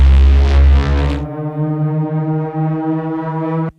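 A war horn sound effect played dry without reverb: a deep, rough, brassy blast that settles into a steady sustained tone for about three seconds and then cuts off abruptly, loud and alone.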